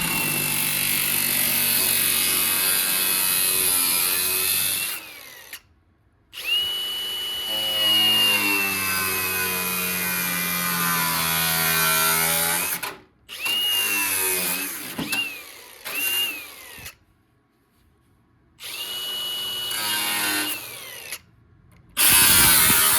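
Power tool cutting through a badly rusted body panel on a 1979 Plymouth Volare, loud whining bursts with a high pitched tone, several stops and restarts with short silences between cuts, close and alone without talk.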